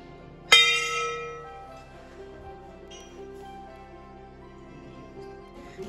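A temple bell at a hilltop Shiva shrine is struck once, ringing out loud and close with a bright metallic clang, then its long shimmering tone decays slowly over several seconds with no talk.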